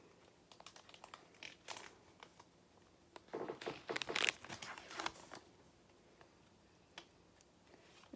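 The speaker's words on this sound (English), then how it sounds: "I cannot officially open a pack without the scissors." Scissors snip and crinkle through a foil Sport Kings Volume 2 trading card pack wrapper, a close burst of cutting and crumpling with scattered ticks before and after.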